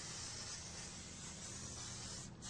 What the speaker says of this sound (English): Catch the brake parts cleaner in a pan for later disposal. Wash the drum itself.